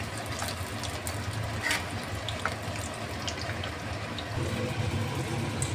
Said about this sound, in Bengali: এই যে একদম লো ফ্লেমে এটা ভেজে নেব।